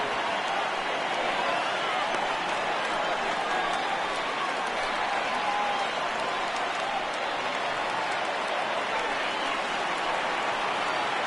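A large baseball stadium crowd of over 36,000 rising to its feet in MLB The Show 18, a steady dense roar of cheering that fills the whole stretch without letup.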